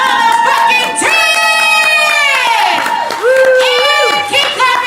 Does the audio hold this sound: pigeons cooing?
no